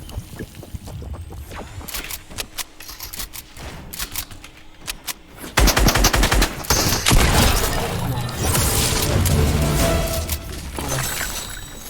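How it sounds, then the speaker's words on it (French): Primitive rifle fire in a video game, several loud cracking shots that burst out over busy game effects, growing denser and louder midway through, with a steady wash of noise behind them. "Fusil primitif."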